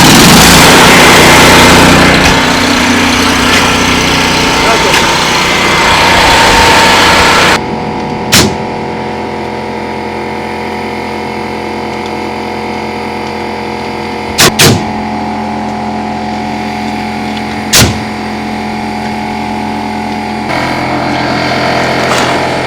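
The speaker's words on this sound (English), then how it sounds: "Start the welder." An engine-driven welder running with a loud, steady engine drone that drops to a lower, even idle hum partway through, broken by a few brief sharp clanks.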